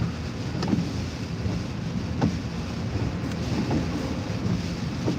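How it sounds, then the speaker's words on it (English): Strong nor'easter wind roars steadily across a seashore, a constant broadband rush with microphone buffeting and a few sharper gusts, surf and water noise mixed beneath, no voices. "it's really blowing again like this morning"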